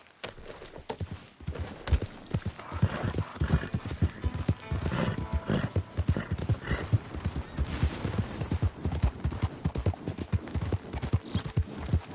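A horse trots steadily in the video game Red Dead Redemption II, its hooves giving a rhythmic, fairly close clip-clop that carries on throughout with no talk.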